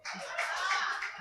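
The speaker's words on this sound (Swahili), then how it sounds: "tupigieni makofi." Audience applause at a seminar on economics and budgeting: a dense, steady burst of many hands clapping that fills the short clip at an even level, with a few faint chuckles mixed in.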